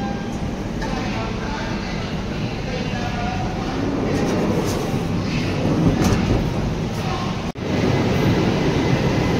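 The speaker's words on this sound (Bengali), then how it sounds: "ফাইনালি 11টার সময় এখন আমাদের ট্রেন ছাড়লো।" A passenger train on a coastal Karnataka route pulling out and running, a steady loud rumble of rolling wagons heard from inside a coach, with voices talking over it.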